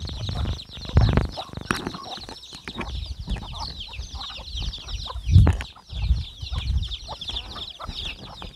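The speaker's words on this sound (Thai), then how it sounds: "ไก่แม่ลูกอ่อนนี" A mother hen clucks with her chicks at a rural Thai farmstead. There are close, irregular low clucks with high, continuous chick peeping over outdoor background noise.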